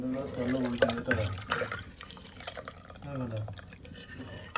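Water pours into a pot of tamarind curry for vendakka puli, a splashing, gurgling fill under a person talking, close up.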